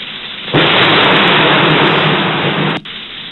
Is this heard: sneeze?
no